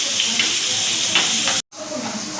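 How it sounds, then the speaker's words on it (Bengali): Onions frying in leftover fish-frying oil with a little ghee for a fish korma, a close, steady sizzling hiss with soft stirring sounds, broken by a brief moment of silence before the frying resumes. "এবার পেঁয়াজটা আমি একটু ভেজে নিই।"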